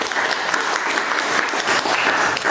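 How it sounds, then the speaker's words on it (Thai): An audience at a Thai academic centenary commemoration claps for a speaker just introduced, a dense, even wash of applause filling the whole moment without any voice over it. "ขอเสียงปรบมือด้วยครับ"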